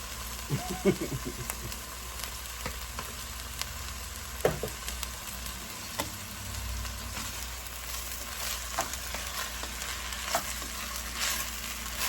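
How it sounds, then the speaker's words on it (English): Rice toasting in a hot pan for a baked teriyaki chicken dish, with a continuous sizzle and repeated scraping stirs throughout. "we'll go ahead and toast this rice."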